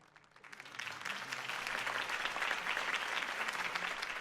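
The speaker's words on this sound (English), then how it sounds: "If only Mr. Wayne, my campaign's largest backer, could have heard that applause" Applause from a crowd in the video game Batman: The Telltale Series swells quickly from quiet to a full, sustained clapping that carries on steadily.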